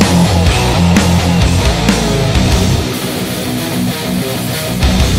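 A metal song plays loud and dense, with heavy distorted guitars, pounding drums and low bass throughout, and no talk over the music.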